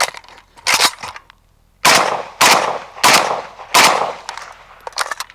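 Loud, sharp rifle gunshots from a WASR 10/63 fired during a heavy irons competition rifle match, about five close reports in an irregular string with a short pause after the first pair.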